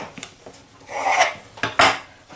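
A knife trimming the edges of a cake to shape it, giving scraping, rasping strokes that come close and fairly loud, with several short cuts and two longer drawn scrapes.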